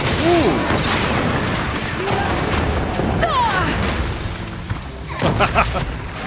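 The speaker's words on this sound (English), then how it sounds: "Just explosions everywhere" Explosions erupt in the action game Horizon Forbidden West, a run of booms and crashes layered over game music and effects, with a person talking over the chaotic battle.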